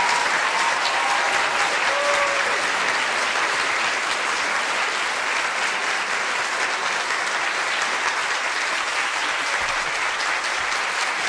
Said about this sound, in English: A round of applause for Linda M.